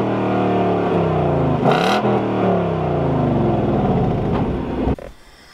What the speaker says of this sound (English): start the car up, it is quite a nice noise.